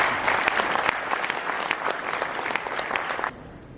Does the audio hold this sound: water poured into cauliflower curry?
no